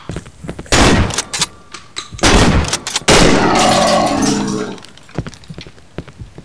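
Gunfire in the video game Cry of Fear: several loud, sharp shots in separate bursts, one with a longer ringing tail, over quiet game ambience.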